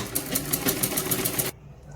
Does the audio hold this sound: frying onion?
no